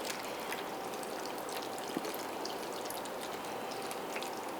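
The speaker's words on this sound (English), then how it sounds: "I'm going to make sure that they get water on top of them" Water poured steadily over seed-starting pellets for coleus seeds makes a soft, continuous, fairly quiet trickling wash with faint splashes, with no voices.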